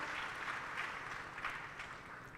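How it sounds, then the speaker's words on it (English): An audience applauds at a university World Intellectual Property Day event, a steady wash of clapping at moderate distance, fairly quiet and even, lasting a couple of seconds without talk. "A round of applause."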